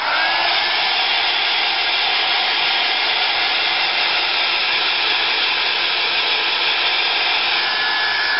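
A textured picture frame being dried off with a hair dryer: a loud, steady, close whooshing blower sound running without pause from start to finish, with no talking.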